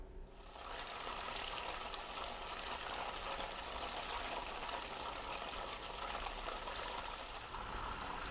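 Melted butter for ghee bubbles and sizzles gently in a pan, a soft, steady crackling hiss with no voices, quiet and close.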